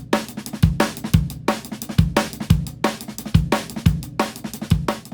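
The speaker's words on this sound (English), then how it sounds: "Classic drum and bass groove is almost like a simplified version of the Amen break." A drum kit plays a classic drum and bass groove modeled on a simplified Amen break, with kick, snare hits and busy cymbals in a fast, steady, loud pattern, heard alone without talk.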